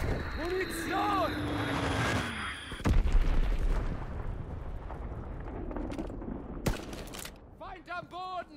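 A bomb explodes during World War II combat in Call of Duty WWII, a sudden heavy boom breaking through rumbling battle noise and shouting voices, followed by scattered gunfire and distant blasts.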